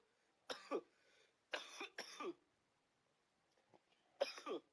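A person coughs in four short bursts, two of them close together, separated by quiet pauses; no speech.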